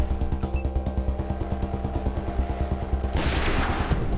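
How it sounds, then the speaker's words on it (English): Rapid Tommy gun bursts in the video game Wasteland 2, a steady fast rhythm of shots throughout, ending in a louder burst, close and loud with no talk. "Tommy gun, first shot."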